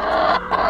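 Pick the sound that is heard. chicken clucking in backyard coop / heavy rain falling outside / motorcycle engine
chicken clucking in backyard coop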